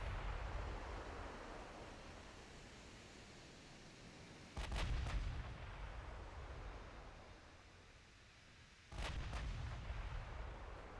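Naval guns firing in the Ultimate Admiral Dreadnoughts video game, with two heavy booming salvos, each a quick cluster of blasts, over a constant low rumble of sea and wind.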